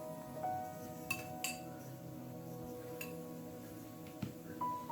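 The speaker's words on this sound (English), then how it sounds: "And then I just stir it in." A spoon stirring an olive oil blend for a hair care mixture, a few faint clinks of metal against a container over a quiet background.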